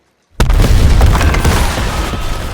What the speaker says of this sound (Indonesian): sebuah ledakan terdengar